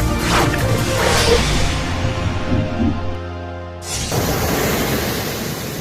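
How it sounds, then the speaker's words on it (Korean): Waves washing onto a seaside beach, a broad steady surf roar with a sharp cut at the midpoint before the wash resumes at full strength. "보기만 해도 시원한 바다"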